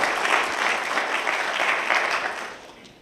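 A conference audience at a Python talk applauds a speaker, a dense, even patter of clapping that holds for a few seconds and then tapers off.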